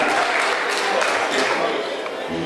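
A live show audience claps for guitarist Antonio Franco, a dense, even roar of applause held at full strength throughout, thinning slightly near the end.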